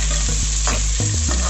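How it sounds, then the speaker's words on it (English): Sliced onions fry in a pan for a beef pepper fry, with a loud, close sizzle and quick stirring scrapes over a brief moment. "Stir this till the onions are translucent."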